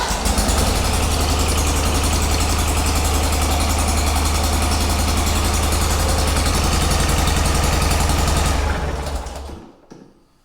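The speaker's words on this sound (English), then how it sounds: "but this engine sure is shaking" A garden tractor's newly fitted engine runs loud and steady with a heavy, shaking low rumble for about nine seconds, then cuts out and fades to quiet at the end.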